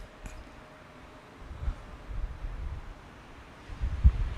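Wind buffets an outdoor condenser microphone in low, gusty rumbles that swell in bursts, quiet at first and then strongest near the end.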